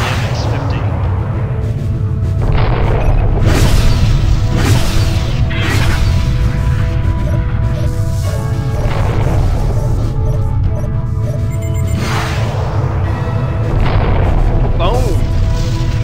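In the space combat game Freespace, training drones hit by interceptor missiles blow up in repeated booming explosions over a loud, continuous engine rumble, with someone talking throughout.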